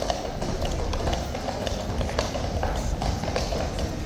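Hooves of the Horse Guards horses clip-clopping close by on the parade ground in London, a continuous dense patter of many hoofbeats over steady crowd and street noise.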